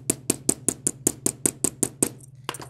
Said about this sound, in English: I can take my nylon hammer.